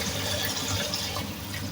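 A large volume of water gushes into a cooking pot for mutton nihari, a loud, close, continuous rushing pour with no voices.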